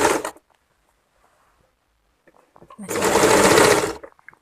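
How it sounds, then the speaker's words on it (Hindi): A sewing machine stitching along a folded kameez neck, with two loud close bursts of rapid mechanical whirring, a short one at the start and a longer one later, separated by near silence. "इस तरह फोल्ड करके इसके नीचे मैं सिलाई लगाऊंगी"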